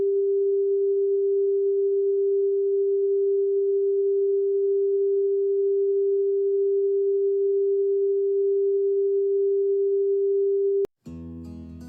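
A pure, steady 396 Hz solfeggio tone hums alone and unbroken for about eleven seconds, then cuts off abruptly as a short burst of different music begins.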